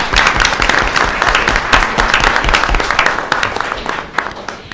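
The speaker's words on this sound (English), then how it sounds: "We'll give them a round of applause." Students at a Granville County school board meeting get a round of applause: a dense burst of clapping from a seated audience that stays steady and close, then thins slightly toward the end.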